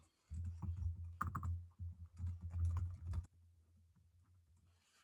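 Typing on a computer keyboard while entering a microphone serial number: a quiet, steady stream of close key clicks in bursts lasting about three seconds, followed by a low hum.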